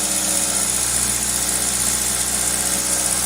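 Engine of a 2000 Toyota Celica GTS idles high with a steady, loud, even hum and buzz that does not change in pitch. The idle is raised because extra air is getting into the engine.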